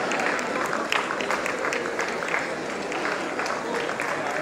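An audience applauds at an outdoor award ceremony for distinguished scientists in Lucknow, a dense, steady wash of many hands clapping that stays loud and even for the whole stretch.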